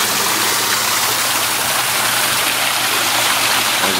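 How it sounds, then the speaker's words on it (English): Water pouring and splashing off the end of a panel water feature, a loud, steady, broadband rush with no pauses or voices. "We're getting a little bit of splash off of this end right here, coming out too far."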